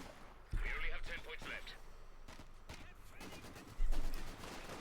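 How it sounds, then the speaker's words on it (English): Machine gun fire rattles in a Company of Heroes 2 battle as grenadiers advance on a bridge point, bursts of rapid shots and booms sitting beneath steady commentary. "Grenadiers proudly advancing into machine gun at bridge point."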